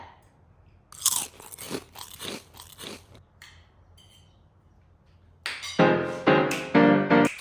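Close crunching bites and chewing on glitter-covered pink eggs and ham, a few loud crisp crunches early, a quieter pause, then louder ringing bites toward the end.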